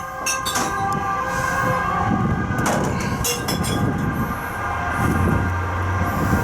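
A train emerges from a tunnel nearby, giving a loud rumbling rush of rail noise with sharp clanks and a brief high screech early on, the low roar holding steady throughout.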